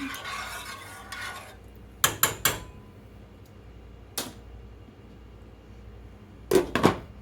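A spoon stirs banana pepper pickling brine with pepper in a pot, first as a soft swirling scrape, then as a few sharp clinks against the pot's side separated by quiet pauses.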